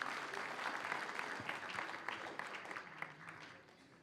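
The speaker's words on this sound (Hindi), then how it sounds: "इनके लिए तालियों से स्वागत किए।" An audience applauds to welcome a speaker at a democracy and RTI day gathering, a broad wash of many hands clapping that starts full and thins out toward the end.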